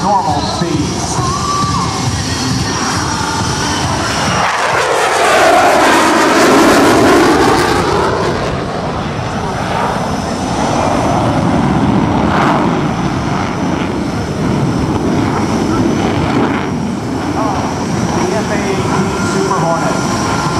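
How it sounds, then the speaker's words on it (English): F/A-18F Super Hornet jet making a high-speed pass at the Blue Angels homecoming airshow: a loud roaring jet sweeps past with a sharp pitch drop, then a lingering rumble under crowd noise and announcer talk. "The high-speed pass is next, demonstrating only about half the Rhino's normal speed."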